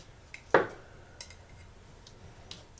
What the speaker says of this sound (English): Right now I'm just dicing up my pre-cooked potatoes.